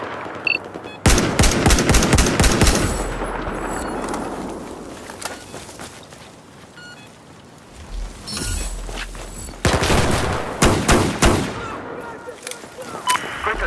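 Enemy machine gun fire in a multiplayer shooter: long rattling bursts with a quieter lull in the middle, then further heavy volleys, loud and close.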